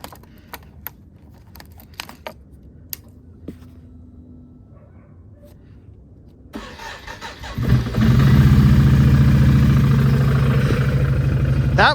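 After a few faint clicks and near-silence, a fuel-injected engine cranks and catches, then settles into a loud, steady idle close by in a garage.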